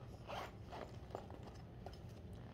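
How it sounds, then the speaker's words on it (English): A zipper slides along a pocket of a Patricia Nash handbag, giving several quick, quiet rasping pulls close up with no talking over them. "And another zipper pocket."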